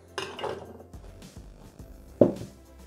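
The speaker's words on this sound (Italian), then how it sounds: "Aggiungiamo le carote," Carrots dropped into a Thermomix TM6 mixing bowl, giving a few hard clattering knocks and thuds against the bowl, with one sharp louder impact near the end, close and alone.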